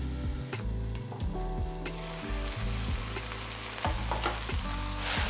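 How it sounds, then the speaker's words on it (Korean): Kimchi sizzles and fries steadily in a pan, with repeated scraping and stirring strokes at a regular pace, close and fairly quiet, with no talking. "중간중간 한 번씩 저어주세요."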